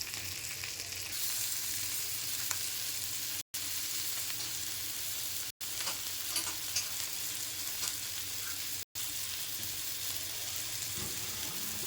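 Prawns frying in a wok for a prawn malai curry, a continuous close sizzle with scraping stirs mixed in and three brief cuts to silence, no one speaking.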